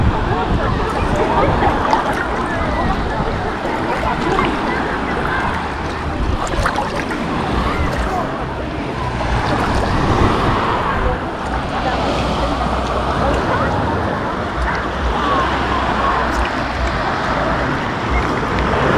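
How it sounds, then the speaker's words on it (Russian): Sea waves washing around someone wading along a Black Sea beach at Lazarevskoye, a steady close surf rush with shifting swells of splashing, plus wind and faint distant traffic; a voice speaks intermittently. "А я практически иду по волнам."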